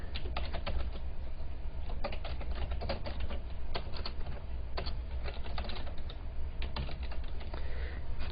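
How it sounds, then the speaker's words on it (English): Steady typing on a computer keyboard while an email is composed in an IT office setting, a continuous run of close key clicks in irregular bursts with no voices. "I can type my subject, and then I can go ahead and type my message."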